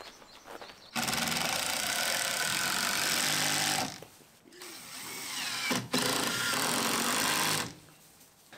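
A power driver sinks 4-inch number 10 multi-purpose screws through a 2x6 board into the corner of a barn, with two long, loud, steady whirring bursts separated by a short pause and a brief clatter.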